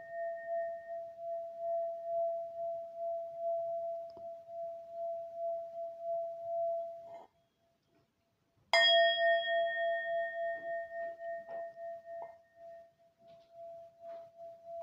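A Tibetan singing bowl rings with a long, sustained hum, fades to near silence, then is struck again with a bright ring that slowly decays.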